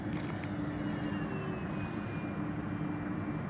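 An E-flite T-28B Trojan 1.2m electric RC plane drones steadily through the air on its maiden flight. The motor whine holds an even pitch throughout and sounds fairly distant and faint.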